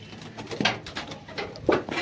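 Soft pigeon coos and flutters, a couple of brief calls standing out over low background noise, fairly close.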